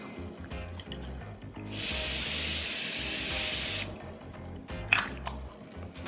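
Time Secret collagen makeup setting spray mists out in one steady, close hiss lasting about two seconds over soft background music, followed by a brief click.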